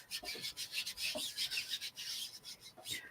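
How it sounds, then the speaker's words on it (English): A chalk transfer screen is burnished down by hand, a close series of short, scratchy rubbing strokes repeating in a quick back-and-forth rhythm for a few seconds, with no voices. "so let's burnish this down"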